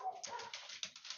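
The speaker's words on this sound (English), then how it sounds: "I don't know if you can hear my dogs barking." Several dogs bark and yip in short, muffled bursts in the background, faint and somewhat distant, with a whimpering quality between the barks.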